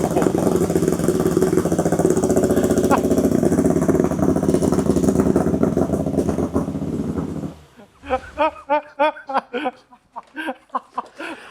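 A V6-swapped Toyota MR2 engine runs loud and steady just after starting, a dense continuous roar for several seconds that then cuts off, followed by short bursts of people talking and laughing nearby.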